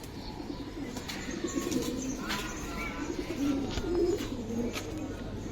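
Indian khaki high flyer pigeons coo softly in repeated low murmurs within a busy, noisy setting, with occasional chirps and faint flutters in the background.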